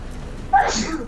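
A single sneeze bursts out mid-clip, a sharp inhaled onset followed by a broad hissing release, heard close over a low background hum during a Skyforge game session.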